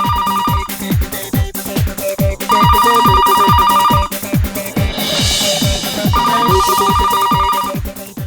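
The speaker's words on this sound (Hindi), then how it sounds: "अरे पूरी की पूरी घंटी बज गई और आपने फोन ही नहीं उठाया।" A telephone rings in repeated bursts of a bright electronic ringtone, loud and close, over a steady pulsing backing beat, with no voices heard.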